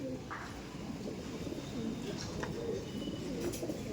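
A male Andhra pigeon in a loft cooing softly, low rolling coos repeating over a quiet background hum, fairly faint and close.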